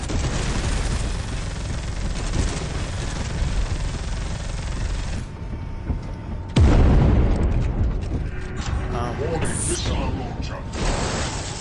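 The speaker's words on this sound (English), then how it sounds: "Random explosion." Explosion in the Warhammer 40k Space Hulk Deathwing video game: a loud sudden boom bursts in midway through a noisy stretch of mechanical clatter and gunfire, followed by ringing debris and continuing combat noise.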